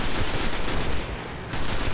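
The Golden Gun fires in the video game Destiny, a dense, loud barrage of gunfire that fills the whole moment. It dips briefly midway and then resumes at full intensity.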